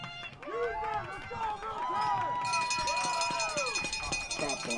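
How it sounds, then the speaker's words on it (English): Riverton home crowd at a 2023 3A state high school football playoff quarterfinal against Evanston, a busy roar of voices and cheering with a commentator talking steadily over it. "There's a Riverton crowd continuing to root on their Wolverines"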